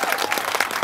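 Audience at a Watts Towers address applauding student winners of an engineering competition, a short steady wash of many hands clapping, fairly loud and close.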